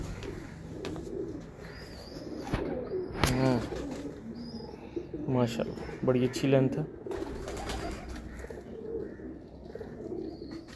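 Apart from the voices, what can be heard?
pigeons cooing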